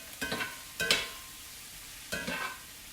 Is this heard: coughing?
no